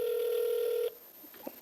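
A telephone places a call with a clear, steady tone that holds for just under a second and then stops sharply, followed by quiet background and a few faint clicks.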